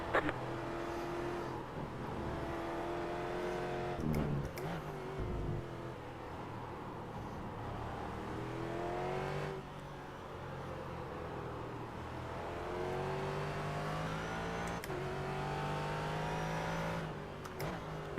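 Ford GT race cars battle in close traffic at Interlagos in iRacing, engines droning and revving through shifts, with rising and falling pitch sweeps as the cars accelerate; a steady, fairly quiet roar throughout.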